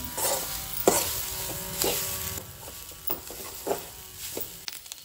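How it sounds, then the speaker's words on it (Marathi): Soybeans roast in hot oil over a low flame, giving a soft, steady crackle and sizzle broken by repeated scraping stirs across the pan, close and fairly quiet, with no talk. "तेल तापलें की ना आतां सोय हितून घालून आमी बरी भाजून घेवया"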